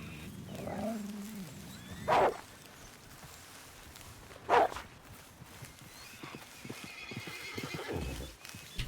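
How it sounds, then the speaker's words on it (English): Hooves clip-clop over the ground as a horse neighs twice in loud bursts in a video game, with rustling movement around it. "The horse is trying to get me."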